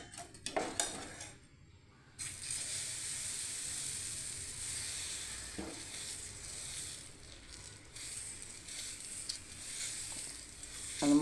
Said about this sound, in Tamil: இனி தோசைக்கு மாவு ஊற்ற வேண்டியதான்